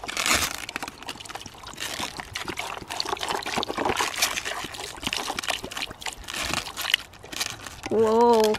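Water trickles and splashes steadily from a homemade bird bath fountain outdoors, a continuous watery patter with people chatting over it, ending in a brief tonal warble.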